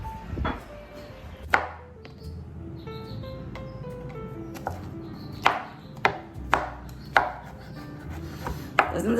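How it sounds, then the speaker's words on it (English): A knife chops mushrooms finely on a board for a mushroom sauce, sharp irregular thuds spaced a second or so apart, close and clear over a quiet room with faint background hum. "Chop them off really fine."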